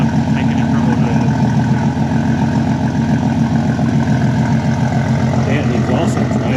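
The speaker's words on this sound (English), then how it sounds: "Damn, the exhaust sounds nice though" A turbocharged car with a 4-inch exhaust all the way back idles in limp mode without a tune. It makes a loud, continuous low rumble that stays close and even throughout.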